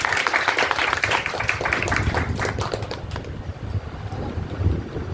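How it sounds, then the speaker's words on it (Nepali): Loud, dense applause from a church congregation, many hands clapping at once, fading toward the end. "जोरदार ताली है"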